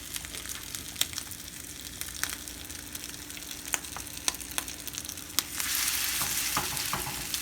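Salmon croquettes fry in a pan with a close, continuous crackling sizzle full of sharp pops, the frying swelling louder near the end.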